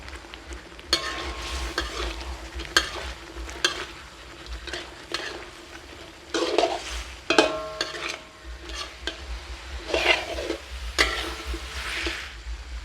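Fried catfish stir-fried with red curry paste in a hot pan, with repeated scraping stirs and bursts of sizzling over a steady frying hiss, close and fairly loud with no talking.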